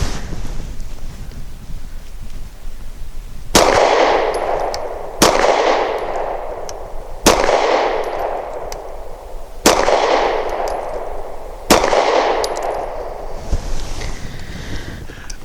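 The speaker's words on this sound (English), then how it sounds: "So for 5 shots from 7 yards, we're going to be using the Norma Hexagon 124 grain." Five sharp gunshots from a Walther Q4 SF pistol firing Norma Hexagon 124 grain rounds at a range, evenly spaced about two seconds apart. Each is loud and near, with a ringing tail over steady wind noise.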